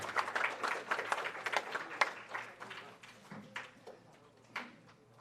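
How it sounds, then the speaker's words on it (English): An audience at a 2019 anti-corruption debate competition in Belmopan's George Price Center claps for the debaters, the applause starting fairly full and then thinning into scattered individual claps that trail off. "Let's give everybody a round of applause."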